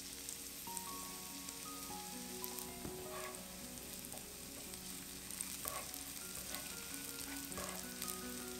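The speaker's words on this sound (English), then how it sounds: "Cook this till the shallots have softened and has turned translucent." Shallots frying in a pan for a black garlic seafood pasta: a continuous soft, steady sizzle with occasional faint stirring touches, close but quiet, and no one speaking.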